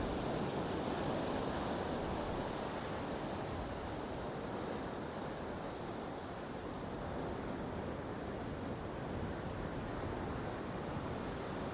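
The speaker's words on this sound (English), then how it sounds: "looks like tide's in. But definitely choppy today." Choppy sea waves at high tide beside Southwold pier on the Suffolk coast, a steady broadband wash of surf with some wind noise, continuous and fairly loud throughout with no speech.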